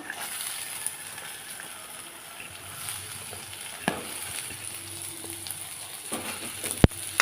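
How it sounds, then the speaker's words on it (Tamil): Onions sautéing in a pan for mushroom pepper sukka give a soft, steady sizzle with occasional light stirring clicks and a few sharp utensil taps, close and moderately quiet, with no talk. "வெங்காயத்தையும் நல்லா வதக்கிடுவோம்"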